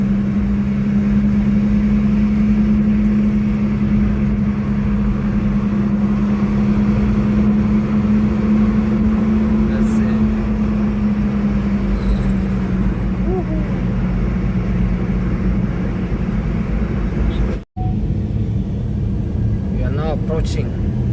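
Car interior on a drive from a village toward the Kabete area outside a city centre, with a steady low engine drone and road rumble throughout and a brief sharp dropout near the end.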